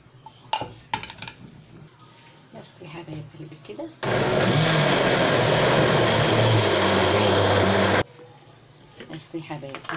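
An electric kitchen blender whirs loudly while blending soaked ingredients, fava beans, for homemade Egyptian bessara. It runs in a single four-second burst, with quieter kitchen clatter and handling noise before and after it.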